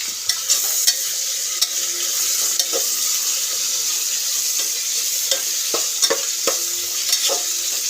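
Chicken pulao with tomato fries in a pot with a steady loud sizzle, while a spoon stirs through it in scattered scraping knocks; no one speaks.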